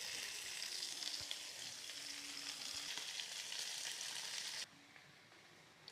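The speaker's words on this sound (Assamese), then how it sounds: "এইফালে মাছ ভাজি আছোঁ আৰু এইপিনে মাছখিনি ভাজি হ'ল।" Fish frying in oil in a pan, a continuous close sizzle with faint clinks, dropping to a softer hiss toward the end.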